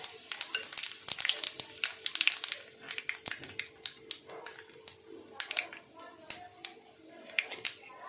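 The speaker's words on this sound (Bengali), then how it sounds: "এবার সর্ষে তেলে একটু কালো জিরে ফোড়ন" Black cumin seeds tempering in hot mustard oil for a rohu fish dish give a close, crackling sizzle with scattered sharp pops and spits that come and go irregularly.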